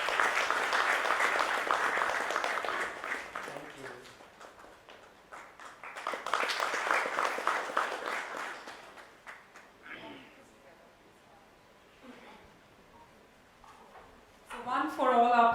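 Applause at a procurement summit panel, two bursts of clapping fading between them, with talking voices emerging in the quieter stretches.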